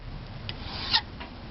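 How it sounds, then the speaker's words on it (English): A hand file swiped across a Norwalk juicer cutter blade held in a vice, giving soft rasping strokes with one brighter scrape near the middle, close and fairly quiet. "Rotate the cutter again, exposing the next cutter blade, file it on the side, between 5 and 10 swipes."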